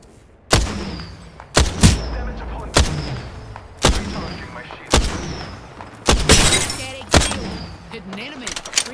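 Gunfire in Apex Legends, playing Mad Maggie: about ten loud, sharp shots fire at an irregular pace, each with a short echoing tail, and a brief burst of shattering or clatter comes near the middle.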